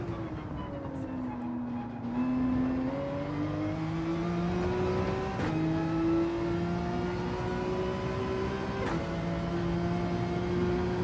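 A Porsche's engine drones steadily through a lap of Gran Turismo 7, its pitch climbing and dipping with gear changes, with sharp shifts near the middle and end, continuous and fairly loud with no talk over it.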